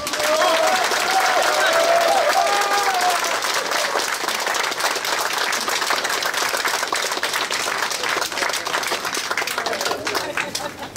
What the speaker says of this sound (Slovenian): pozdravimo z bučnim aplavzom gospoda Janeza Janšo